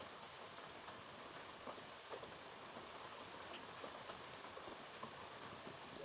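Steady rain falls outdoors, a continuous, even hiss of drops with no pauses or distinct events, moderately faint throughout and no voices.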